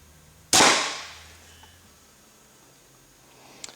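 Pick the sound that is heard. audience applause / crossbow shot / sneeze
crossbow shot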